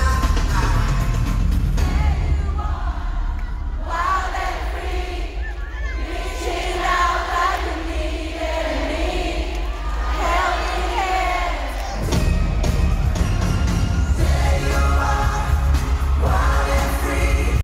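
Live concert crowd of boy band fans singing the final chorus together after the band stops the music, a dense massed chorus of voices with loud roar and cheering swelling at the end.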